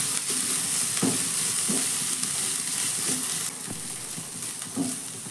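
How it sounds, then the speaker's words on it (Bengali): Boiled chana dal being stirred in a pan with coconut and spices over a medium gas flame, with a constant sizzle and a few distinct spoon scrapes at irregular intervals, close and fairly loud, no talking. "ডালটা দিয়ে দেওয়ার পর 1 মিনিট মতো আমি কিন্তু নাড়াচাড়া করে নিয়েছি।"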